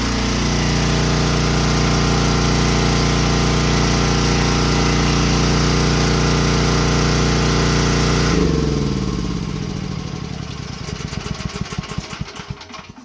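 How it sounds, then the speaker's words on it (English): A $600 propane generator with electric start runs loud and steady in a garage, its even engine drone holding for about eight seconds before it is shut off and winds down into sputtering, uneven pulses. "Just about to shut the generator off."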